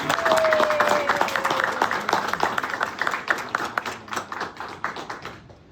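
An audience claps for graduating Army soldiers at an AIT graduation ceremony, a dense, steady round of applause that gradually thins out and fades to silence.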